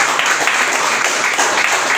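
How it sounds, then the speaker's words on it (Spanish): Loud, dense clapping from a church congregation, continuous and even with no talk over it. "Da un aplauso a Cristo"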